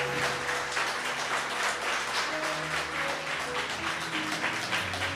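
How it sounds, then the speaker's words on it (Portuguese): Congregation applause at a church sermon, a dense, even wash of clapping sustained throughout over a soft sustained music tone. "Palmas para o nosso Deus."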